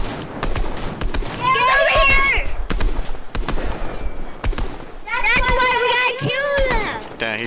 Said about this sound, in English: they're shooting us right now